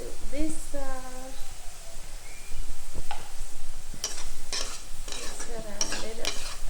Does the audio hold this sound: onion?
yes